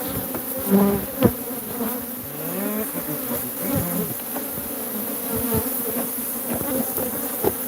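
Angry bees pour from an exposed hive in a dense, agitated buzzing swarm that drones continuously close by, with individual insects whining past.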